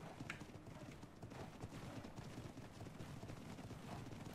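Ponies galloping in the medieval-themed video game ARK, a steady stream of hoofbeats running without pause at close range, with a faint whinny mixed in.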